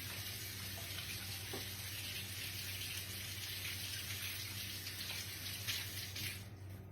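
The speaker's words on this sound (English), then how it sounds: "Let me wash my hands real quick" A tap runs steadily while hands are washed beneath it, a continuous close hiss of flowing water with no pauses.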